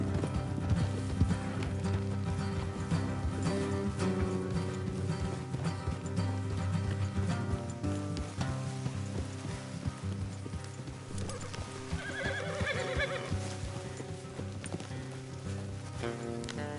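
Horse hooves clip-clop in a steady rhythm under a continuous musical score in the video game Red Dead Redemption 2, with a horse whinnying faintly toward the end.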